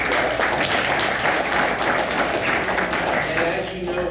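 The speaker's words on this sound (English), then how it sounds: "Give yourselves a round of applause." A conference audience claps in a continuous round of applause that starts full and eases slightly toward the end, with a voice speaking over the clapping.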